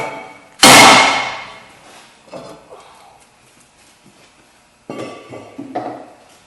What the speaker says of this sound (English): What I normally do is just hit it a couple of times with a hammer